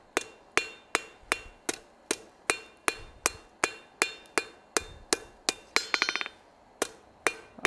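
A hammer planishes metal on an anvil during a forging demonstration, striking in a steady rhythm of about twenty sharp ringing blows, close and clear, with a quick flurry of lighter taps near the end.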